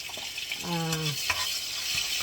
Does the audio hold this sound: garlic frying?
yes